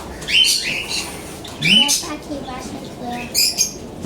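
Pet birds, bought at a market, squawk and chirp in several short bursts close by, with a voice talking alongside.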